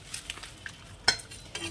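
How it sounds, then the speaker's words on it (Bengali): Coriander and cumin seeds dry-roasting in a pan, with soft sizzling and a few sharp clinks of a spoon stirring against metal, close and brief. "এবার এই যে ধনেটা ভেজে নিচ্ছি, ধনের আর জিরে একসঙ্গে"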